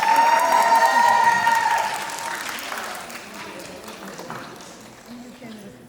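Applause from the audience at a group dance competition in Tokyo, loud at first and then fading into scattered claps, with a voice talking over the opening.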